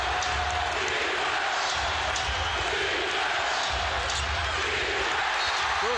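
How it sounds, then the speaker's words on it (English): A large indoor basketball arena crowd roars continuously during a 2003 Wizards–Pacers NBA game, a dense wash of cheering and noise with occasional sharp thuds rising through it. "Listen to this crowd."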